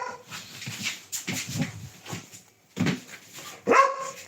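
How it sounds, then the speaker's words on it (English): A dog barks and whimpers up close in short bursts, with a few sharper yips near the end. "Stop barking."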